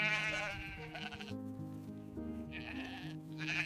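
Sheep bleat repeatedly as a farmer lets them out of their enclosure to graze, several overlapping wavering cries fairly close and at moderate volume, with no talk.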